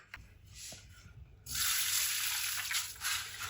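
Eggs are rinsed in a bowl or sink of water, a close, steady rush of running water that starts abruptly after a quiet moment of light splashing and continues loudly.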